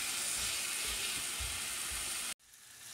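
Green masala frying in a pan, a loud steady sizzle and hiss with a faint low bubbling pulse, cutting off abruptly near the end and then returning quieter.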